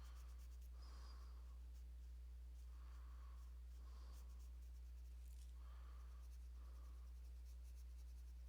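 Colored pencil strokes on paper, faint scratchy bursts repeating at an uneven pace against a quiet background.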